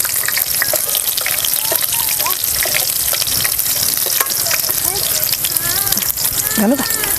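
Garlic sizzles steadily in hot oil in a pan for stuffed brinjal masala, a dense continuous crackle with occasional stirring scrapes and faint background voices and clinks.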